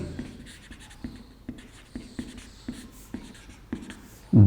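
Writing on a board during a Class 11 chemistry lesson on organic compounds, a steady series of short tapping and scratching strokes at a regular pace, close and distinct, with no speech over them.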